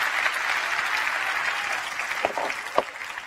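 A church congregation claps in a moderate, fairly distant wash of applause, with a few sharper individual claps standing out toward the end.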